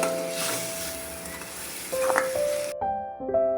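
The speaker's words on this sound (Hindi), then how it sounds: "अब आप इसको अच्छे से मिक्स कर लें।" Okra is being fried with turmeric, salt and spices while a spoon stirs it through the pan, giving a steady sizzle and a few scraping knocks, close and fairly loud. Faint steady tones and background music sit under it; no one speaks.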